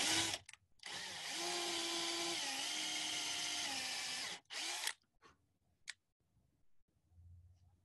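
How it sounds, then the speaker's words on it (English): Drill boring dowel holes in wood with a depth stop set, running loud and steady for about three and a half seconds, then brief bursts as the bit is withdrawn, followed by quieter handling clicks. "And now drill holes there."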